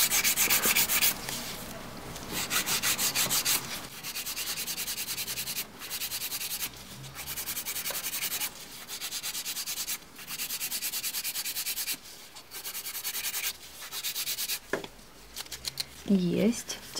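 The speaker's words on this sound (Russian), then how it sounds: "Теперь скручиваю бочок горизонтальными движениями, и пилочка у меня лежит горизонтально." An acrylic nail is shaped with a hand file in quick, rhythmic rasping strokes, close and crisp, broken by short pauses, while someone talks quietly underneath.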